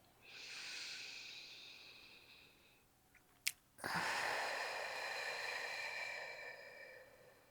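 Slow, close breathing during yoga: one long, airy inhale fades out, a brief click follows, then a long exhale, all quiet and intimate, with no talking.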